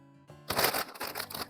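Crunchy pork cracklings squeezed and crushed by hand over a bowl of palabok, a burst of close, dry crackling and crunching that sets in after a quiet start.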